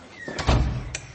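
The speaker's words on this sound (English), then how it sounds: "Do you want to open the next door and keep going?" Door-opening sound effect from a Google Assistant riddle game, a short creak and soft thud lasting about a second, close and clear with no talk.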